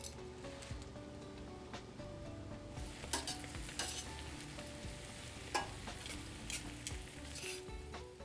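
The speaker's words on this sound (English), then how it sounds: "Now the spinach will go in batches. As it wilts, just keep on adding more and more spinach." Spinach goes in batches into a hot pan with shallots and is stirred as it wilts, a continuous close sizzle layered with repeated spoon scrapes and clinks against the pan, with no speech.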